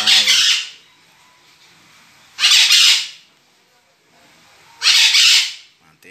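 Parrots give three loud, harsh squawks about two seconds apart, each burst lasting roughly half a second, with quiet pauses between them.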